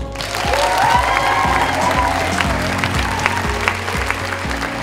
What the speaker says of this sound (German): Jede Menge Applaus für die Deutschlandpremiere von Lara